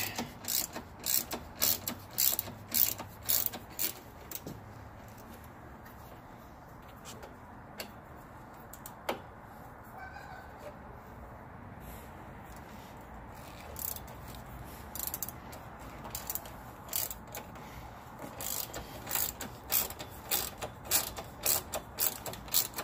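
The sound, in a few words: 1/4-inch drive ratchet with star socket on Jeep YJ dash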